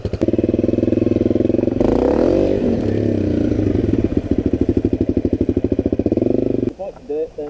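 An off-road motorcycle engine is left running, idling with a steady throbbing rumble and a brief rev partway through; the engine stays loud and close throughout.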